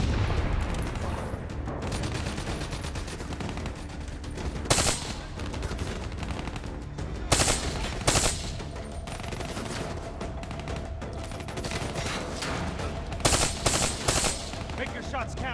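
Sustained automatic gunfire from a Call of Duty Black Ops 3 battle, dense rapid bursts rolling on throughout with louder sharp cracks standing out now and then, a thick continuous firefight wall of sound.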